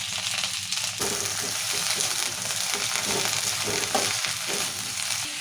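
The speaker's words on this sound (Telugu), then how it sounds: "ఇప్పుడు మిరపకాయలు కొత్తిమీర సొరకాయ పొట్టు ఇవన్నీ వేసినాం కదా మంచిగా నూనెలాగా వేయించుకోవాలి" Green chillies, coriander, curry leaves and bottle gourd peel fry in oil with a continuous close sizzle, overlaid by light scraping and clinking from stirring in the pan.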